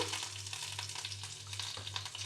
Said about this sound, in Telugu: ఫ్రై అయ్యే వరకు కొద్దిగా ఫ్రై చేసుకుందాము